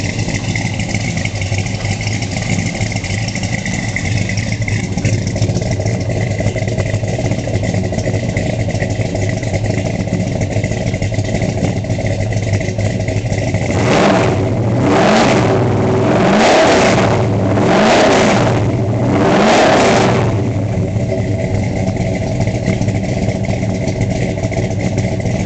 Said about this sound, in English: Great tone from the dual exhaust.